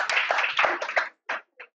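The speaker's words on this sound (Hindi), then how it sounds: "ताली बजा दो बढ़िया से।" Students in a classroom clap their hands together, a dense burst of quick claps for about a second that trails off into two short final clap clusters.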